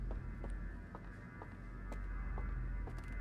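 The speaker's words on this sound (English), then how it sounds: "I do unfortunately have to have my washer and my dryer on right now, so I can hear a little buzz in the background" A washing machine and dryer run together somewhere nearby, giving a steady low mechanical hum and buzz with faint rhythmic creaks and thumps, constant and fairly quiet throughout.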